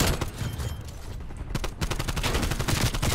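Rapid automatic gunfire in Call of Duty Black Ops Cold War, dense loud bursts of shots fired in quick succession during a Hardpoint match, continuous and close.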